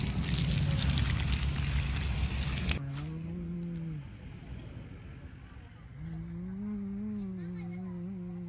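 A Gir cow on a dairy farm lets out two long, low moos, one after the other with a pause between them. Before the first moo there is a stretch of loud rushing, splashing water noise.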